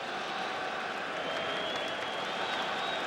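Dense crowd noise and applause at a 2013 baseball playoff game, a loud, steady roar of cheering and clapping filling the whole moment without pause.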